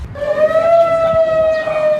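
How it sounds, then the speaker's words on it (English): Steady, loud civil defense emergency siren holding a sustained wailing tone during a hurricane evacuation, with faint background rumble. "the emergency siren warns residents to leave by 8 p.m. tonight"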